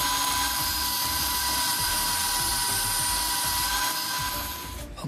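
Handheld angle grinder with a cutting wheel slicing through a pattern, a steady loud high-pitched whine held for about five seconds before it cuts off and winds down at the end.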